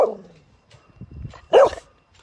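A small dog barks in two short bursts, one at the very start and a louder, sharper one a moment later, with quieter rustling in between.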